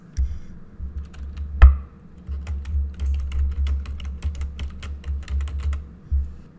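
Someone types search terms on a computer keyboard, a steady run of crisp close keystrokes with one sharper louder tap, over a low hum.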